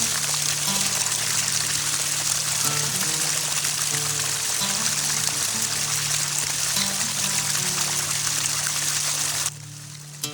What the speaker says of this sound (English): The spring water at the entrance to the basilica has flowed since before the Agora was built